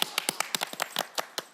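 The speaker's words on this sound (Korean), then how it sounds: "박수 한번 쳐" Several people in a television studio clap their hands briefly, about eight crisp, separate claps in an uneven rhythm, fairly quiet and close with no talk.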